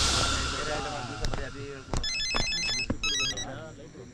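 A mobile phone ringtone chirping in short repeated electronic bursts amid voices, with sharp knocks and a muffled background throughout.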